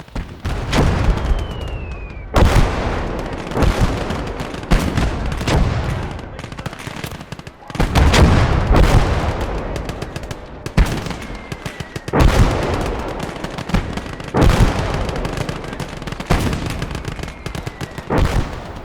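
A bazooka loaded with phosphorus rounds fires amid a battle in the Gates of Hell wargame, with repeated loud, close blasts and booms over a continuous din of gunfire.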